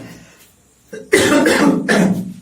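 A man coughs twice in quick succession, loud and close, after a moment of near silence and a brief throat sound.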